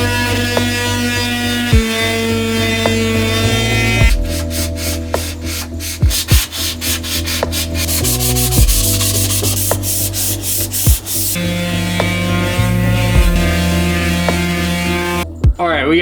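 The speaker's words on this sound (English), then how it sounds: "we've got a lot of sanding to do inside of here." Sandpaper of 220 grit rubs back and forth across surfaces inside a van, a loud close scraping in steady strokes with brief pauses, over a faint hum.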